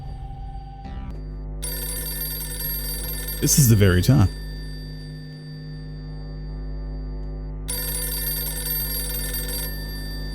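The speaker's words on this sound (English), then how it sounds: "Their phone again." Telephone ringing in the video game White Shadows, a steady electronic tone that sounds at the start and later returns, with a brief loud burst of other game sound in between and a voice talking.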